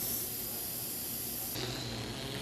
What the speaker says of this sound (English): So I'm going to start off by filling these balloons up with the gas.